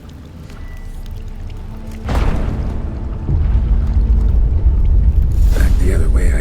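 Rock base collapsing in The Witcher 3 game, a broad rumbling crash that swells in after a couple of seconds and grows louder in a second surge, sustained low roar with gritty debris, lightly under faint talk.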